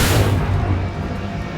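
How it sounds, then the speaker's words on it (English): A single heavy boom from a projectile's area-of-effect explosion in a modded Minecraft game, loud at the start and then decaying into a rumbling tail. "the projectile has an area of effect explosion when you hit the ground"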